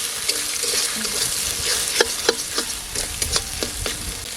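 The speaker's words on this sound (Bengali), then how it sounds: "আমার ডিমগুলো ভাজা হয়ে গেছে," Eggs frying with salt in a pan, a soft crackling sizzle broken by sharp scraping and tapping strokes of the spatula, close and moderately loud, with no voices.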